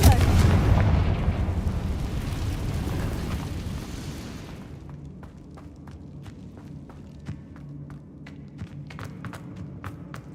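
A fiery blast spell in the video game Hogwarts Legacy: a loud, rumbling explosion at the start that slowly fades, followed by a string of light, scattered ticks and footsteps.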